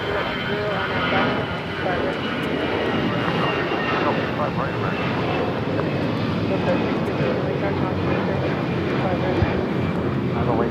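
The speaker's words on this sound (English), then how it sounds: "525 taking off to San Salvador on an A320 in the Surf City, El Salvador livery" An Avianca Airbus A320 in Surf City, El Salvador livery takes off from LAX, its engines a steady, loud, broad roar that holds without a break throughout.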